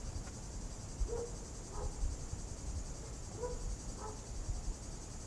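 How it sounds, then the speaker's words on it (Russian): A steady, high-pitched drone of cicadas fills the air in a Crimean garden without a break, with a few faint distant chirps underneath. "Ой, слышите, цикады поют."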